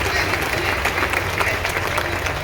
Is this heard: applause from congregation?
yes